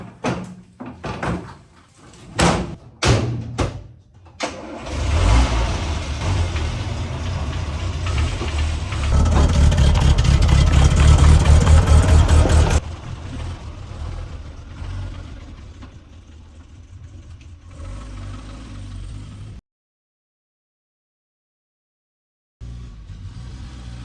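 A Land Rover, just back together after its brakes were bled, with a few sharp door slams up front, then a loud engine start and steady running before it drops away to quieter idling.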